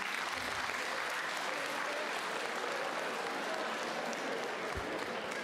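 Live comedy audience of students applauding, a steady dense wash of clapping throughout, moderately loud and unbroken.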